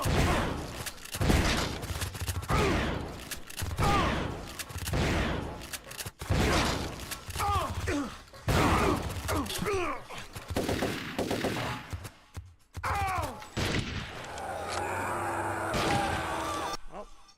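Rapid gunfire bursts and sharp shots from Turok 3: Shadows of Oblivion, including sniper rifle fire, dense and loud throughout, with game sound effects and a voice briefly heard near the end.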